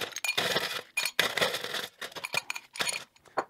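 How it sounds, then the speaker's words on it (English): Ice cubes dropped into a glass for a non-alcoholic gin and tonic, clinking and rattling in a quick series of bright, close knocks with short pauses between them. "and then you're gonna add your ice."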